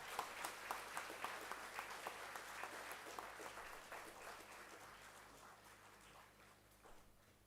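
An audience claps at a foundation day celebration at a polar and ocean research centre, with steady applause that starts strong and gradually thins out, plus a low hum underneath.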